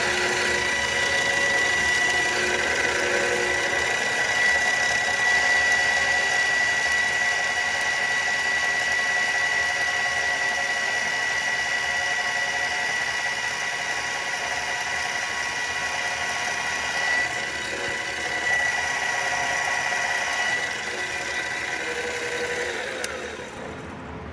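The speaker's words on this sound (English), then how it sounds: "And we're just going to center drill it." A steady mechanical whine of a lathe running as metal for a model airplane diesel engine is center drilled, with a constant high tone and motor hum, no talking.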